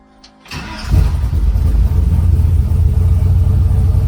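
A Turbo C50 truck's engine starts up and settles into a loud, steady low rumble, idling close by with a deep throbbing drone and no talk over it.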